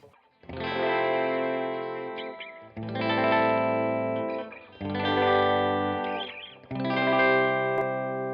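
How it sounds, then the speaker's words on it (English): Electric guitar through an Arturia Deluxe Memory Brigade delay plugin on its default preset: four sustained strummed chords, each ringing out with a short repeating echo before a gap, clean and close. "So if you want to hear the guitar with just the preset default setting, here it is."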